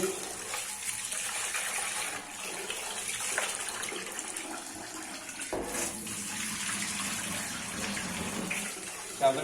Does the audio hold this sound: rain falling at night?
no